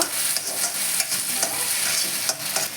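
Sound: stirring frying pui mitholi in a pan

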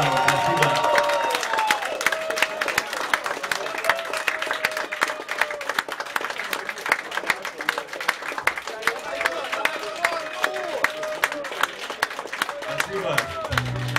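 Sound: audience applause at a club concert

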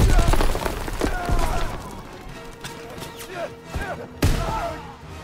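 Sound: combat shotgun firing in video game Call of Duty WW2

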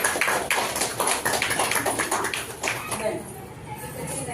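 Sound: group clapping hands at a puja ceremony

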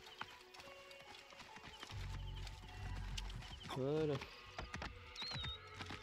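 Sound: horse hooves in Assassin's Creed Origins video game

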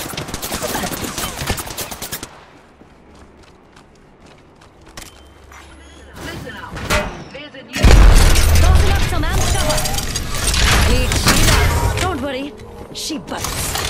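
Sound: enemies shooting, gunfire in a video game

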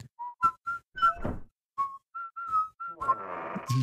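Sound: Luigi whistling in Luigi's Mansion (video game)

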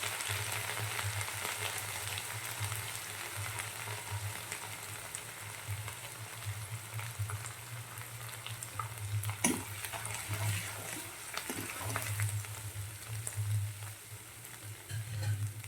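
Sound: food frying in pan

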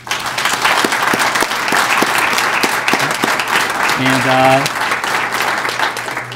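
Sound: audience applause for graduating students

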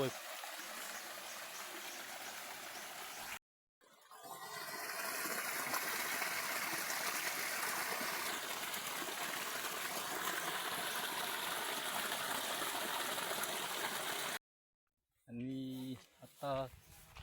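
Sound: waterfall

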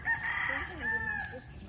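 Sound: chickens

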